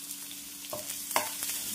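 Onions, green chilli and chana dal fry in a pan, giving a close, steady sizzle marked by two quick spoon scrapes.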